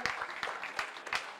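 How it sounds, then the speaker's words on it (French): An audience at a Kick's Night 2024 kickboxing weigh-in claps quietly, a faint, somewhat distant patter of applause in uneven bursts over a short stretch. "On l'applaudit bien fort"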